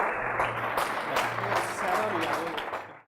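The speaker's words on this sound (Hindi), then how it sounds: "जोरदार तालियां बजाएं यीशु के जलाली नाम के लिए।" Congregation at a Hindi-language Christian worship service breaks into loud, sustained applause for about three seconds, a dense clapping wash with faint voices and tonal sound underneath, cutting off abruptly at the end.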